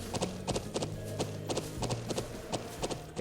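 Horse hooves clip-clop in steady, rhythmic trotting from several horses, one black, some brown and one white, in the video game Trails of Cold Steel, with sustained game music tones underneath.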